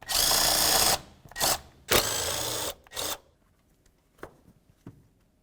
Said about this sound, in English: Go ahead and pull that, and then remove that bolt as well.